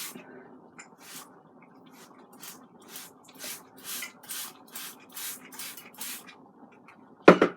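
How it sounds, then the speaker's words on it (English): A spray bottle puffs out a fine mist in a steady run of about a dozen short, hissy bursts beside an Instant Pot Duo Mini, fairly close and evenly paced, ending with a sharper clatter. "It sprays in a nice mist."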